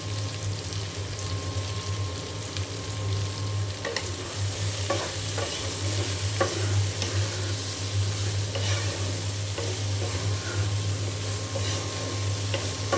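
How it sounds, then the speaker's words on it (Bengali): Pointed gourd, potato and shrimp, seasoned with turmeric and salt, sizzle steadily in a pan while being stirred and turned, with a constant frying hiss and soft scraping throughout. "এখন খুব ভালো করে আমি নেড়ে চেড়ে ভাজিটা করে নেব"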